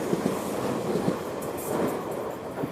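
A Tokyo Railway line train rolls past a remote station, a steady rumble with faint rhythmic wheel clicks and light high squeals, fairly close and continuous, with no voices.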